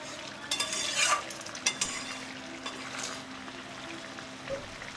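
Potato and pointed gourd curry, aloo potoler jhol, is stirred in a pan with scraping, clinking strokes while the liquid simmers and sizzles steadily underneath, near and moderately loud.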